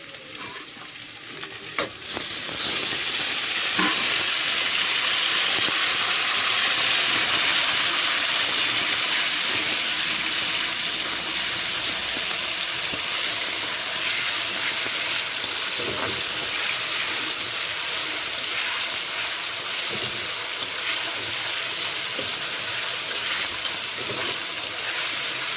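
Ginger garlic paste hits hot oil for chicken kosa and sizzles loudly after a short quiet start, then keeps frying steadily with faint stirring.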